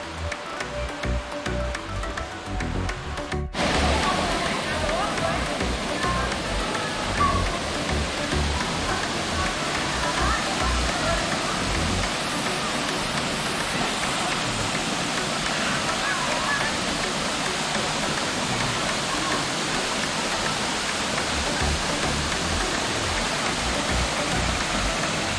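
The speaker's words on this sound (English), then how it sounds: "Cool thing about this place is it had two waterfalls." A waterfall and creek in Puerto Rico produce a loud, steady rushing roar of falling water. It swells in after a quieter opening few seconds and then holds constant, with faint talk underneath.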